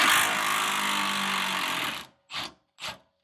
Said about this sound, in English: Oh, there's nuts on top too. Okay. I got a wrench in here now.